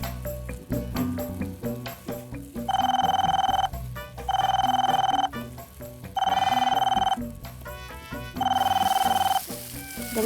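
A telephone rings four times in loud, evenly spaced bursts inside a home where cakes are being baked, with cluttered household noise and faint voices between the rings.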